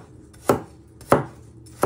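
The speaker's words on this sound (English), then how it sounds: "So you just keep chopping them" A knife chops carrots into little pieces on a board, giving three crisp, evenly spaced chops up close in a quiet kitchen.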